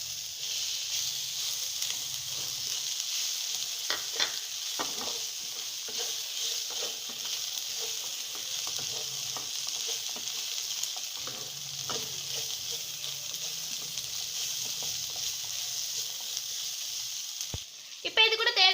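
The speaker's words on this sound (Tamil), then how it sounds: "இப்போ இது கூட நம்ம வதக்கி எடுத்து வச்சிருந்த வெண்டைக்காவை சேர்த்துக்கோங்க." Okra frying in a pan with coriander powder, a steady sizzle running throughout with occasional stirring scrapes, fairly faint.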